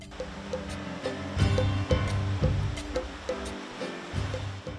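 Sea water surging against rocky coast at Le Souffleur, a churning, rumbling wash of surf with repeated heavy surges and splashes, close and continuous with no voices.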